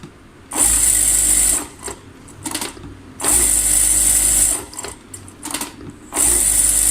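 An industrial sewing machine with a thread trimmer runs in repeated loud bursts of fast mechanical whirring, stopping and starting several times with quieter clicks and pauses between runs.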